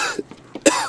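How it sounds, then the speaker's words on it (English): A single sharp human cough lands near the middle, preceded by smaller throat sounds, recorded close during a Tarkov PvP match. "You coughing, right?"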